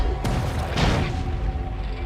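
A kinetic shell gun firing in Deep Fringe, two dull booming thumps about half a second apart, heavy and close over a low steady hum.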